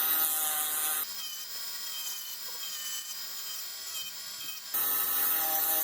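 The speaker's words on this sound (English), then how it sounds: "I don't know how gentle I can be with a belt sander." A belt sander grinds wood off a bark-covered handle, a steady high whine with a rasping edge that drops to a lighter whir when lifted off and then surges back at full loudness, close and without talk.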